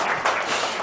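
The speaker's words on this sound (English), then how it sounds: "Yep, applaud." Brief, moderately soft applause from a keynote audience at an accessibility event, a continuous wash of clapping with no talk.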